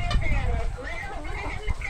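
Chickens cluck and chatter close by in a continuous, overlapping murmur, with low thumps and rustling underneath.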